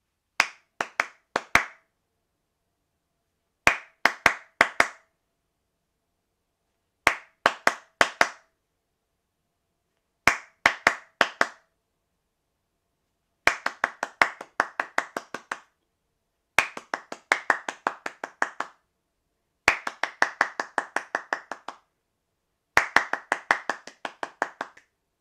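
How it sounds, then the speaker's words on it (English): A teacher claps rhythm patterns for a KS2 class, eight short sharp phrases of crisp hand claps separated by silent gaps, the later phrases longer and denser. "I'm just going to clap my rhythms, but I'm not going to clap yours."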